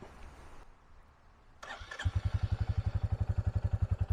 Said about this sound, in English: Already these have a nice, that classic thumper sound of the big single cylinder firing away